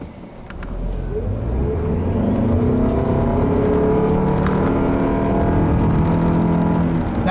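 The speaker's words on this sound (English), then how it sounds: "with my foot planted to the floor and listening to that four-cylinder drone away" Toyota Camry Hybrid SE four-cylinder engine at full throttle from inside the cabin, a rising, steady drone that builds after the first second and holds with slowly climbing tones.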